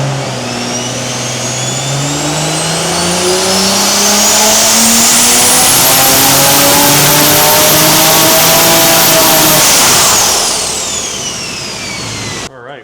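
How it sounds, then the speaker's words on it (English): A BMW X3 M Competition on nitrous, fitted with a Valvetronic titanium exhaust, revs hard on a hub dyno: one loud, close, continuous pull climbing steadily in pitch for about ten seconds before the throttle drops off. "First pull on the dyno."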